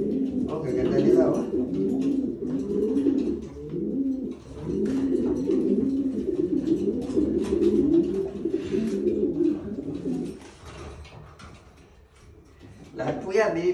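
Pigeons coo in low, throaty, repeated burbles close by, a soft continuous chorus with a brief lull near the end.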